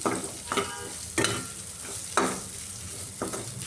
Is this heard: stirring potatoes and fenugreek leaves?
yes